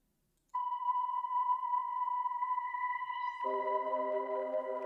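A sustained synthetic "seahorse" tone from Cloud Supply with a pure, voice-like, choir quality, which thickens into a richer multi-note chord partway through. Steady and fairly loud, with no talking.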